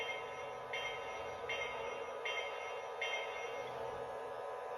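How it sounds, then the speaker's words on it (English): A Lionel LionChief toy train bell rings faintly in a steady rhythm, four evenly spaced dings over a constant background hum. "and ring the bell"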